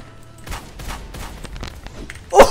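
Gunfire from the Destroyer gold gun in the zombie shooter Truy Kích: a rapid run of sharp shots and thuds, moderately loud, ending in a heavier burst.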